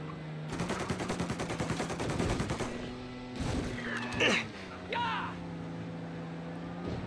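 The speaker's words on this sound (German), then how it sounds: "komm, hör auf zu schießen" Gunfire in the video game Mafia: Definitive Edition, a rapid burst of automatic shots followed by a few louder single cracks over a steady engine drone, with brief shouts breaking in.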